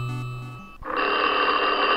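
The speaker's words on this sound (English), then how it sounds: "Oh, phone call!" A telephone bell breaks in loudly after a few soft musical tones and keeps ringing in a continuous, bright metallic trill to the end.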